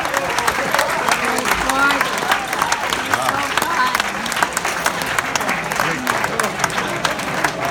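A wedding reception crowd breaks into sustained applause after a toast, dense clapping filling the room with some voices mixed in underneath.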